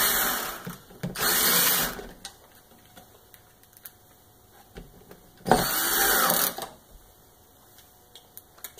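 Cordless screw gun driving screws while a Kirby Sentria II vacuum cleaner is reassembled, two loud whirring bursts of about a second each, separated by quiet handling clicks and faint tapping.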